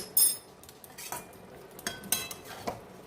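Chicken stirred with biryani masala in a pot for Kolkata-style chicken biryani produces scattered metallic clinks and scrapes of a spoon against the pot, a few sharp knocks at irregular intervals, close up and without talk.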